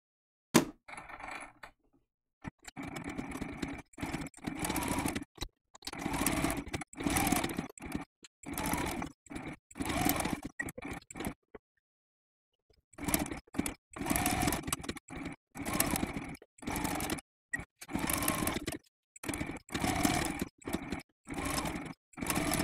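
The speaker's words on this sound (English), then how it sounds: "just to sew that little stem down" Sewing machine stitching down an applique stem on a Sunbonnet Sue quilt block, a close, whirring motor in repeated bursts of a second or two separated by short pauses, with no talk.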